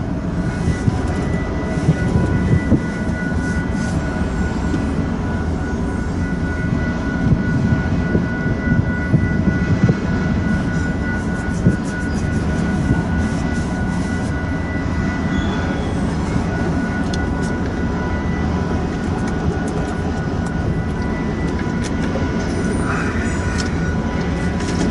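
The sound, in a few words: eastbound freight train of empty autorack cars passing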